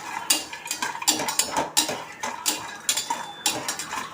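Dry lentils and chana dal roasting in a pan without oil, stirred with a metal spoon, giving irregular light scraping clinks and rattles close up, quiet and without talk.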